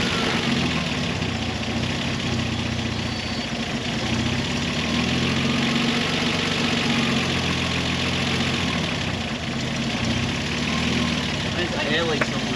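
A 4WD engine idles steadily with a rough, uneven note from a possible air leak, heard up close as a continuous low rumble with a person talking over it.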